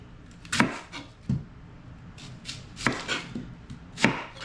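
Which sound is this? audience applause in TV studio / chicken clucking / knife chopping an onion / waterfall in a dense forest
knife chopping an onion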